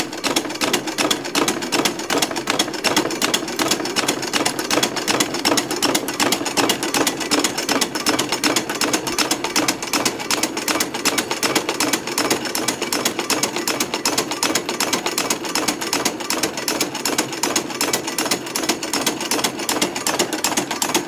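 A Keene Engineering dry washer runs with a fast, relentless mechanical rattle as its flapper valve, which is not closing, clatters rapidly and evenly, loud and close throughout with no voices.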